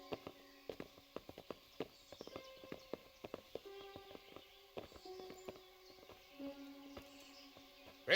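Horses' hooves clip-clop in an irregular walking rhythm in the medieval video game Kingdom Come: Deliverance, quiet and fairly close, with soft ringing tones between some of the steps.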